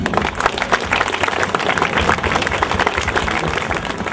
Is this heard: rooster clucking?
no